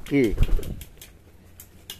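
Hungry pet pigeons give a short coo followed by a rustle and soft wing flaps, close by, with a few faint clicks afterward.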